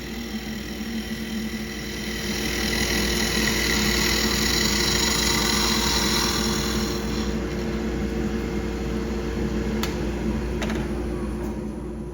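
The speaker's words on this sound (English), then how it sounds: "shoring up the cylinder with a planing cut from my 3/8 inch skew" A wood lathe spinning a small tool-handle blank while a 3/8 inch skew chisel makes a planing cut, giving a steady whirring drone with a smooth shaving hiss that swells in the middle, then fades.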